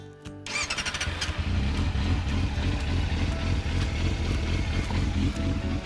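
A motorcycle engine with a clutch issue runs loud and steady after a brief start, misfiring slightly with a rough, uneven idle and faint squealing over the constant rumble.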